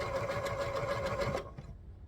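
A sewing machine stitches a Bargello quilt block in a fast, steady whirring run close by, then stops abruptly.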